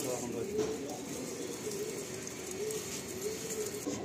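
Pigeons coo softly in a rooftop loft, low rolling calls recurring through a steady ambient background with faint voices.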